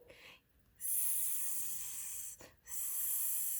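A person imitates a child's soft snore in a few breathy, hissing inhales and exhales, close and quiet with brief pauses between breaths.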